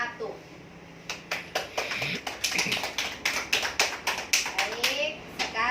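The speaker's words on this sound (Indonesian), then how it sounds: "kita tepuk tangan untuk kelompok 1" A small group in a class session claps together, a sparse patter of hand claps that starts after a quiet moment and builds into an uneven run of sharp claps.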